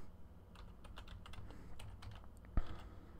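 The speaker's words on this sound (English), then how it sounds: "So now I can just hit the backspace key and delete the first part of the" A computer keyboard's backspace key is tapped repeatedly, giving faint, quick plastic clicks over a quiet room background.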